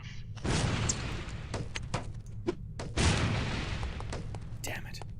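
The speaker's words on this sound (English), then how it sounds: "These relatively inconspicuous-looking lipsticks are actually powerful explosive devices that detonate on impact" Lipstick-shaped explosives go off in No One Lives Forever, two heavy booms about two and a half seconds apart, each trailing a rumbling decay over faint background noise.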